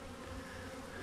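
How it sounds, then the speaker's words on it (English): A swarm of honeybees from a nucleus box hums as a steady, dense buzz close by, with no voices over it. "Looks like one of my bee colonies have swarmed."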